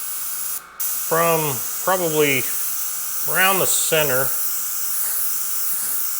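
An airbrush sprays lines across a canvas while shading a cylinder exercise, giving a steady, close, fine hiss that runs throughout beneath someone talking.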